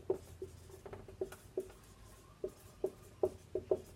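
Words written by hand with a pen or marker, giving a series of short scratchy strokes and taps at an uneven pace, close and fairly quiet, with no talk.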